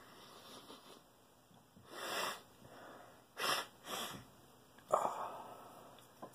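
Snuff is sniffed up the nose in several short, sharp, close nasal inhalations, four distinct bursts separated by quiet breathing pauses.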